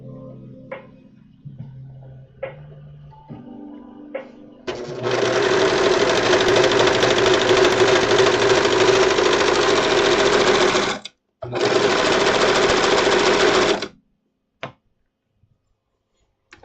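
A sewing machine runs at a steady fast clip stitching a symbiote suit, two loud sustained bursts separated by a brief pause, preceded by softer handling clatter.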